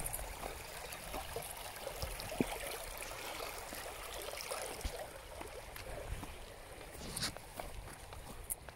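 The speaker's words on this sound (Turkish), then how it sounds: "Şu ırmaktan geçelim bakalım." Stream water flows and trickles in a steady, quiet outdoor wash at a rural estate in Fatsa, Ordu, with faint scattered knocks and rustles nearby.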